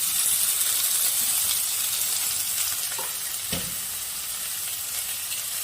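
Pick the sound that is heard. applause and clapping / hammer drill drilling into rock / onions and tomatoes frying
onions and tomatoes frying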